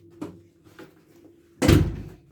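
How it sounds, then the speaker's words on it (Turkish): An indoor door pushed shut, ending in one solid, close thud after a couple of faint knocks and shuffles, with no one speaking. "Kapıyı kapatayım durun anlatacağım."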